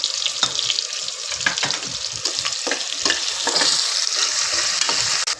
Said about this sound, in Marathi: आता आपण तेजपत्ता आणि कांदा लालसर करून घेऊ.